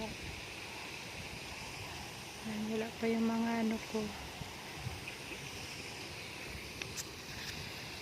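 A small stream flows through a quiet nature park as a soft, continuous wash of water under a voice, with a brief tonal sound in the middle.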